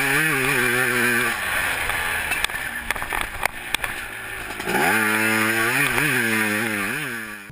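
A fuel-injected CR500 two-stroke motocross bike is ridden hard, its engine buzzing loudly and close with rising revs, then dropping to a rough, uneven idle before revving up again through the gears.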